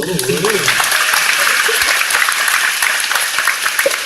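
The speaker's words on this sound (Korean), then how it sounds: "오, 박수." A studio audience claps energetically for a few seconds, dense close applause with voices briefly audible at the start.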